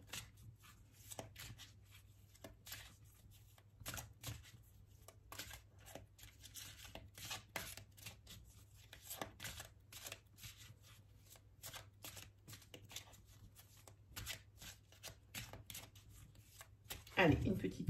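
Tarot cards are shuffled and cut near the mic in repeated quick riffling bursts and soft slaps, with quiet talking in the background.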